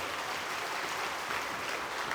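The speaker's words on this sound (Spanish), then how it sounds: "damos un fuerte aplauso a la palabra de Dios" A congregation at a church retreat gives a steady, even round of applause after a Bible reading, a continuous wash of clapping from a sizeable crowd with no speech.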